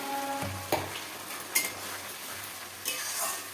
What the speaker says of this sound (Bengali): এরপর আমি মশলাটাকে দিয়ে ভালো করে কষবো